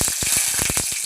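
Dried red chillies and bay leaf hit hot oil in a wok for a Bengali tempering, giving a loud, steady near sizzle with crackling spits and pops throughout the short moment.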